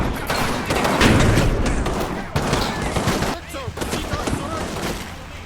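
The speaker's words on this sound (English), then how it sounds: "Grenades are thrown on both sides." Grenade blasts and rifle and machine-gun fire crackle in a Combat Mission WWII battle for a hill in Italy, dense overlapping shots and booms rolling on continuously at mid distance.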